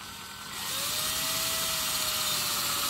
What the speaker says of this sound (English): I'm going to switch out my drill bit, put in a larger bit